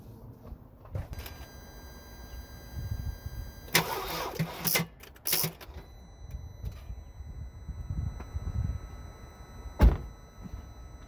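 A Jeep WK CRD with a dead battery, a few weak starter or door clunks and brief bursts of noise that never catch into a running engine, recorded close in a quiet space.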